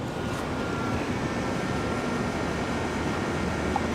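A Breeze Airways airliner taking off from Raleigh-Durham International Airport, a steady, broad, distant engine roar that holds at an even loudness throughout.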